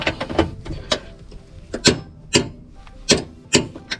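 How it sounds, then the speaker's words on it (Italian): With an 18 mm socket, a worker tightens two screws to 80 Nm on a Fiat Panda lower engine mount, making crisp ratcheting clicks and metallic taps in an uneven rhythm, close and fairly loud. "Vado a chiudere queste 2 viti con la bussola da 18 a 80 Nm."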